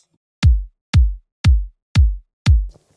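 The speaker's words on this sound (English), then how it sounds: "starting with a kick, which sounds like this." A punchy electronic kick drum sample in a disco-house production hits five times at a steady tempo, each a deep booming thud with a short click attack, loud and alone against silence.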